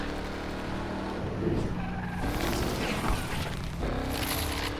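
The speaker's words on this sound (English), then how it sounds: "That engine sounds so beastly, wow. It sounds like a monster" Koenigsegg supercar in Need for Speed Unbound, a loud, dense engine roar with revving swells and tyre noise, continuous and close throughout.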